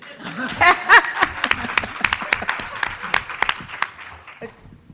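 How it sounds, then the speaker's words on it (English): Brief, sparse clapping from a small audience at a panel talk, mixed with chuckles and light laughter, tapering off within a few seconds. "You can clap for that picture, too."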